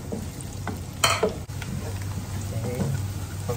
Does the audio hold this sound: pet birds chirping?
no